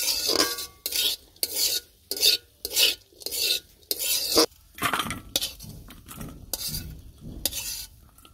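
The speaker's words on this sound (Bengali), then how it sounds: "আলু ভাজি হয়েছে, নামিয়ে নিই।" Fried potatoes scraped and scooped out of a pan with a metal utensil, giving a run of distinct scraping strokes at a steady rhythm over a faint sizzle, close and fairly loud.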